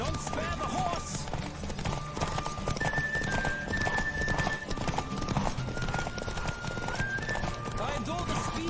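A horse gallops in the video game Witcher 3, its rapid hoofbeats pounding steadily throughout, layered under game music and ambient noise with voices faintly present.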